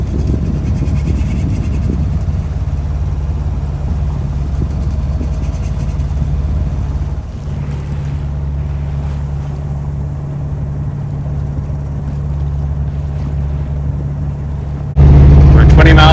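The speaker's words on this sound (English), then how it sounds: "I just decided to motor sail" Sailboat motor sailing under engine power in light wind, a loud, steady low engine drone with constant hull and water rush, continuing unbroken and close throughout.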